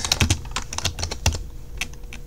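Quick bursts of typing on a computer keyboard: sharp, close clicks in an uneven rhythm that thin out toward the end, with no talking.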